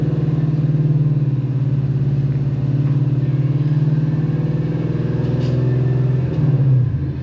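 A car engine on a Lund E85 tune is held at a steady 2000–2500 rpm, with a loud, close, droning hum throughout and a slight rise just before the end.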